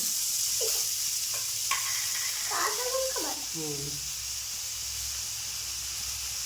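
Green chili paste fries in a pan with a constant, high, airy sizzle that runs the whole time, while a voice talks over it for the first few seconds.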